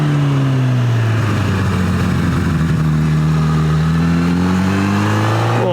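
A Honda CB1000R motorcycle engine pulls in second gear around a mountain hairpin, a loud steady mid-pitched drone whose pitch dips and then climbs as the revs fall and rise, with no talking.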